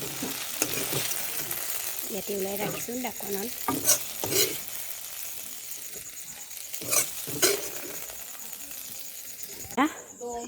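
Potatoes and dangbodi fry in a pan of hot oil with a soft, steady sizzle, broken by occasional clinks and scrapes of stirring. Someone talks quietly over the cooking.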